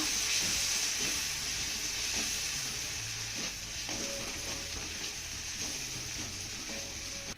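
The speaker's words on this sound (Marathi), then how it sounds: "आता हा टोमॅटो ना चांगला मऊसूत परतून घेऊया." Chopped tomato sautés with softened onion in a hot pan, a steady close sizzle with occasional stirring scrapes and faint tonal squeaks, continuing evenly with no voices.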